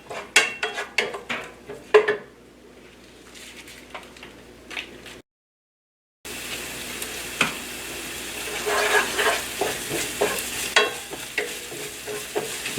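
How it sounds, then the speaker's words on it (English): Onions and turmeric powder stirred in a pot with a utensil, repeated scraping and clinking strokes over a soft sizzle, with a brief silent gap midway before the stirring resumes. "Just give them a good stir for a few minutes."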